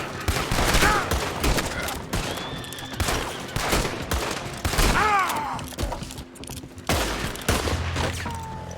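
Gunfire from Red Dead Redemption erupts in bursts of sharp, loud shots, several volleys spread across the span with rolling echoes and a voice calling out in between.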